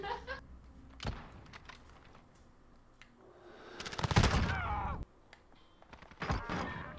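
Sniper rifle shots in a Modern Warfare Search and Destroy match, a few sharp cracks spread across a brief stretch, with a louder burst of gunfire noise in the middle and voices talking over the game sounds.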